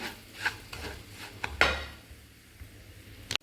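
Semolina (rava) frying and being stirred in a pan for rava idli, with scattered scraping and clinking of a utensil against the pan at an irregular rhythm, fairly quiet and with no voices.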